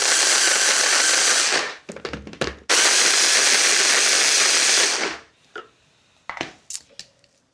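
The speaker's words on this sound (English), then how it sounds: "So pop that into a blender." Fish for kebabs being blitzed in a kitchen blender, two loud sustained whirring bursts of about two and three seconds separated by brief clattering pulses, followed by quieter knocks and handling noises.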